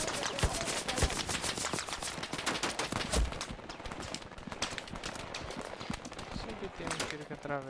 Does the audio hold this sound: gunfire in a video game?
yes